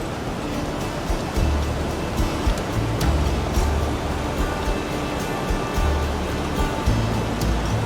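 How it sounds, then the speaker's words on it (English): Raging water at the Tyndall Creek crossing on the John Muir Trail, a loud, close, unbroken roar of rushing current with surging low churning swells and no talk. "The water is raging"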